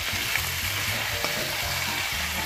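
Beef liver pieces fry in a pan with a loud, continuous sizzle and occasional stirring scrapes, close up and with nobody speaking.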